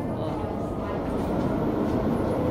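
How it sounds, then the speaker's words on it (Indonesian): Metro train pulling into a Hong Kong MTR station, a steady broad rumble and rolling rail noise building slightly in loudness, with faint voices underneath. "Sekarang keretaku datang."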